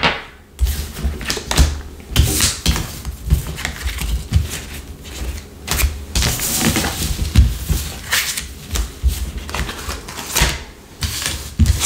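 Tarot cards being gathered up off a table, a dense run of quick papery taps, slides and shuffling clicks, close and fairly loud throughout.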